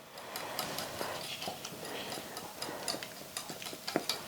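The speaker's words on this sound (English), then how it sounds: "I'm going to start whisking this" Flour and egg batter whisked in a bowl for pancakes, rapid light ticking taps of the whisk against the bowl in a steady irregular rhythm, close and soft.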